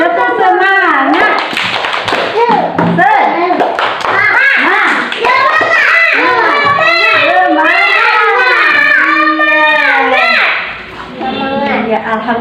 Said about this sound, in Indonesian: Kita tepuk semangat dulu. Ayo 1, 2, 3. Tepuk semangat.